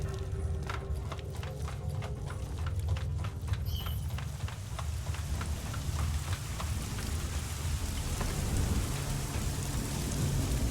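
Steady rain falls in the video game Deus Ex Mankind Divided, a constant hiss over a low rumble, with a series of sharp rhythmic clicks or steps early on and a brief high tone near the start.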